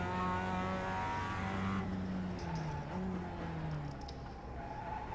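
Race car engine in the iRacing sim, a steady harmonic drone that shifts pitch partway through as the car is driven slowly around the circuit, with faint tyre and mechanical noise on top.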